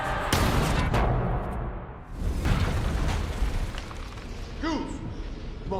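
Explosion in a zombie film scene, a loud booming blast with rumbling debris that fades into a dense noisy wash, heard alone without talk.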